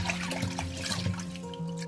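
Vegetables soaked in salt water are rinsed in a basin of water, giving a continuous, soft sloshing and trickling close by for a couple of seconds.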